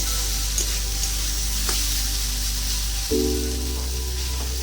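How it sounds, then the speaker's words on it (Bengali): Mixed vegetables with bitter gourd frying in a pan over raised gas heat, a steady close sizzle with faint stirring clicks and a brief louder hiss partway through; no talk. "সবজিগুলো সেদ্ধ হয়ে গেছে ওই জন্য গ্যাসটা বাড়িয়ে দিলাম তো ভালো করে লাল লাল করে একটু ভেজে নেব"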